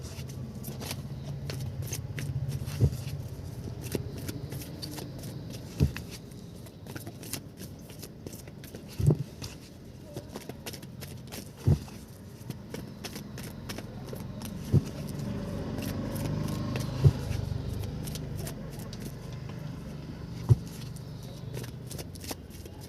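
Tarot cards are shuffled and drawn by hand, giving faint, soft riffling and papery slides with small taps and flicks at irregular intervals, close and quiet against a low background hum.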